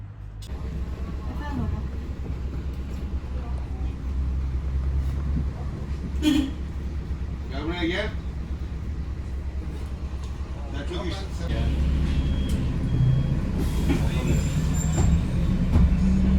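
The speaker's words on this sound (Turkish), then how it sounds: "Minibüsün kalkmasını bekliyorum." A waiting minibus engine idles with a steady low rumble, close and constant, while people talk nearby and occasional clunks and rattles break through before the engine grows louder toward the end.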